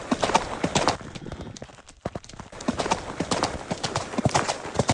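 Rapid clip-clop of horse hooves in a horse riding video game, a dense galloping rhythm, loud and close, briefly pausing mid-clip before resuming, with a faint voice underneath.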